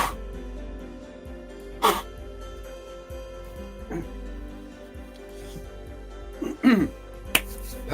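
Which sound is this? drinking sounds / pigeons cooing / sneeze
sneeze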